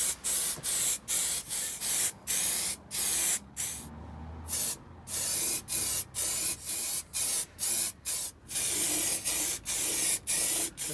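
Aerosal spray can laying textured underbody coating on the underside of a restored car, a steady run of close hissing bursts, short and long, separated by brief pauses, alone without talk.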